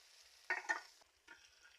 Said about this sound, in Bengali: টমেটো কুচি দিয়ে দিচ্ছি তেলের উপর